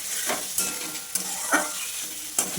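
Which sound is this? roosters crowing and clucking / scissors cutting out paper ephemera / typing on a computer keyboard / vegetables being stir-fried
vegetables being stir-fried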